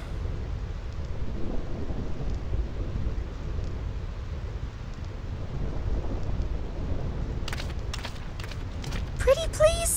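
Thunderstorm on the Thunder Plains in Final Fantasy X, a low continuous rumble of rain and thunder, with a brief sharp crackle near the end.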